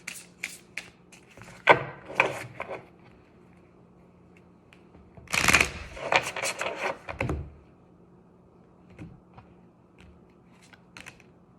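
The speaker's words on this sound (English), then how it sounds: "Let's pull a Seasons of the Witch Oracle card." Seasons of the Witch Oracle cards being shuffled, giving close, dry bursts of papery rubbing and flicking in two main clusters with quieter scattered taps between them.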